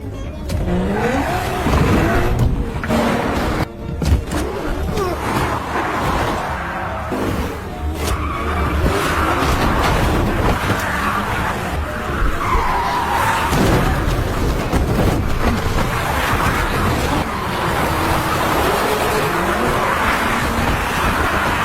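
Tires squeal and skid through a frantic car chase in the zombie film Peninsula, set in a post-outbreak Korea, with continuous loud engine roar and screeching under a dense, busy mix that runs throughout.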